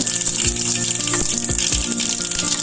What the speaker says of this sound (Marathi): अर्धा चमचा तेल घालूयात थोडी मोहरी अर्धा जिरं किंचित हिंग